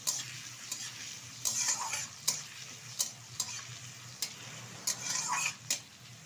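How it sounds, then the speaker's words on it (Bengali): Chopped ginger and garlic frying in a pan while a utensil stirs them, soft steady sizzle under scattered sharp scrapes and clinks, close and moderate, no voices. "এখন দিয়ে দেবো কুচিয়ে রাখা আদা। এটা একটু নাড়াচাড়া করে নেব"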